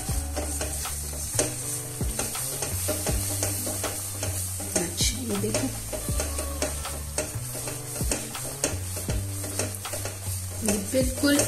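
A spoon keeps stirring a chocolate coconut barfi mixture in a pan, giving a repeating rhythm of scrapes and knocks against the metal over a low sizzle, close and clear.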